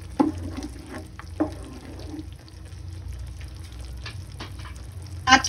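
Chayote being stirred with ground pork and brown sugar in a hot pan, a steady sizzle with a few scraping utensil knocks near the start and again at the end.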